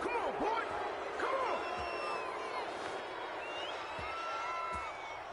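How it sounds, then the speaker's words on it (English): Stadium crowd in a football video game reacting to a penalty call, a sustained roar with whistles and jeers rising and falling, fairly loud and continuous with no talk over it. "this crowd does not like that call"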